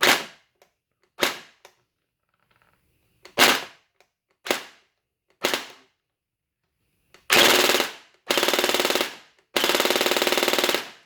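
An HE ACR gel blaster fired on semi-automatic, sharp close snapping shots, five spaced single pops followed by three longer, louder bursts of rapid fire, with no talking.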